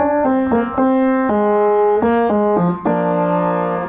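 A quick melodic guitar lick played on piano, a run of distinct struck notes stepping up and down, clear and close with no talking.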